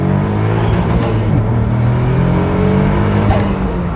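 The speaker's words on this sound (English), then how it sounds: "I know I hit the rev limiter then" A Caterham Seven 170R sports car engine revs hard and steadily with strong harmonic tones, briefly stuttering and dipping as it bounces off its rev limiter before climbing again.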